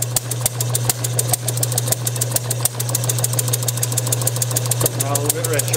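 A Bessemer engine running on a test bench with its fuel mixture set slightly leaner, giving a loud, steady, rhythmic chugging beat with a deep hum throughout.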